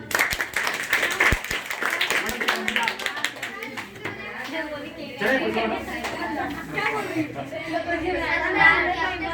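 An audience at a lecture in Surat, Gujarat breaks into a burst of close, sharp hand clapping for about two seconds, which gives way to scattered claps and a murmur of chatter and talking voices.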